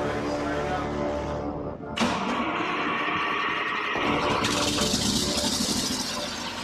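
A generator that has sat unused for nine months cranks and fires up, its engine rumbling loud and close with an abrupt jump in roar partway through and a steady run after.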